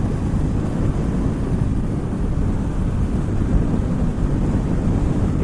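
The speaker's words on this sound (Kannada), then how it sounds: "ಇಷ್ಟು ವಿಂಡ್ ಬ್ಲಾಸ್ಟ್ ಇದ್ರೂ" Heavy wind buffeting on the microphone of a motorcycle ridden at about 120 km/h on the road. It is a loud, steady low roar that fills the whole stretch without pause, and no one speaks.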